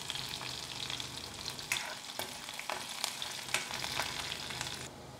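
Steady, dense sizzling of chopped green chili and garlic frying in hot oil, with occasional sharper pops and crackles throughout.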